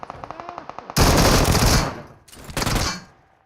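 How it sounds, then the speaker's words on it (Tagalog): Rapid automatic gunfire in PUBG coming from behind, a dense loud burst of shots followed by a second shorter burst, with no talk. "Ay, bumabaril sa likod."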